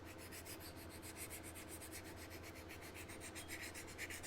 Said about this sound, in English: that goes through there and just it's kind of like a buffing file